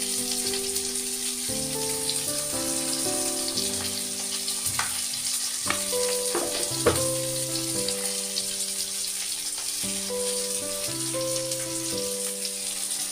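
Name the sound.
rohu fish frying in a pan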